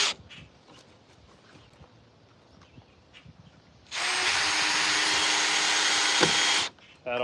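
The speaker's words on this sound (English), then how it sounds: "So I think we need to come in at an angle and add a couple more screws just so it doesn't break on us" Power drill driving screws at an angle into a wooden nesting box of a semi-portable chicken coop, a loud steady whir lasting about three seconds after quieter handling noise and brief voices.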